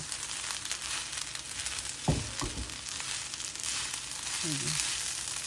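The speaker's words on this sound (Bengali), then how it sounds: "নিয়ে আমি এটাকে এখন ভালোভাবে আরও ভেজে নিব" Spinach pulao mixture with milk powder frying in a pan, giving a steady, even sizzling hiss throughout, with a few faint clinks and a brief murmur of voice in the middle.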